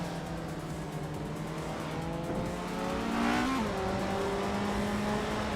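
A vintage AMC Javelin race car in a racing video game, its engine droning steadily as the pitch climbs and shifts, with a brief tire squeal partway through and no talking over it.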